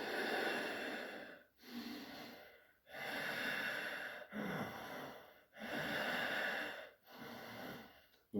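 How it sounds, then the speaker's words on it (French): Bhastrika pranayama breathing with Ujjayi throat compression: forceful, rasping breaths through a constricted throat, alternating long hissing inhales and exhales with brief pauses, close and steady, no speech. "rajouter la compression de la gorge comme pour la respiration Ujjayi"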